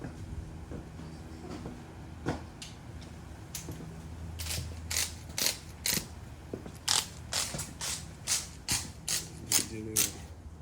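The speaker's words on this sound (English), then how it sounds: "snug it down and get the torque wrench" Torque wrench ratcheting as it tightens a bolt on a rebuilt alt-fuel engine, a run of evenly spaced sharp clicks that grows steadier and louder, close by, with faint voice and shop noise beneath.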